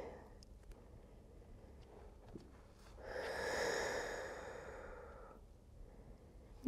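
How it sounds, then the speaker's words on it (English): A slow, deep belly breath during a yoga floor pose, taken as alligator breathing, swelling into a soft, airy exhale of a few seconds in a quiet room. "Feel that deep belly breath as you inhale."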